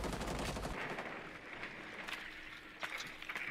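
Gunfire in the video game Rainbow Six Siege, fairly faint bursts and scattered shots heard through game audio, a dense rattle at first then a few sharper reports near the end.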